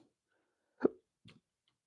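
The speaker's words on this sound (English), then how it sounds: "Excuse me, I got hiccups." A single sharp hiccup from a man, short and fairly loud in a quiet room, followed by a softer, fainter catch of breath.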